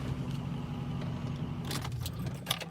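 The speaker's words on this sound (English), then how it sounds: "We're actually gonna lock the truck, bring our keys with us this time." Keys jingle in a brief, bright burst near the end as a truck is locked, heard over a steady low idling engine hum.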